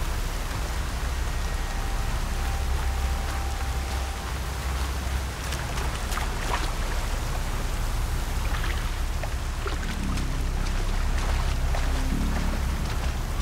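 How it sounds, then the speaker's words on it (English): Heavy rain in the video game Horizon Zero Dawn pours as a steady, dense hiss of drops throughout, loud and unbroken with no speech over it. "It's heavy with rain."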